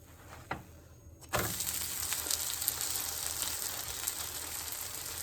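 Chinese-style dosa uttapam topped with veggies sizzles on a pan. It begins quietly with a couple of soft knocks, then breaks into a loud, steady frying hiss that continues with no talk.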